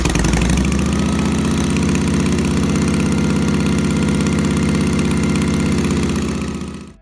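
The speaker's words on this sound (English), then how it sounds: "air-cooled V-twin engine delivering 60 horsepower and a rumbling exhaust" An air-cooled 60-horsepower V-twin motorcycle engine with shovel-shaped rocker covers rumbles steadily at close range, a deep pulsing idle that holds loud and even before cutting off abruptly at the end.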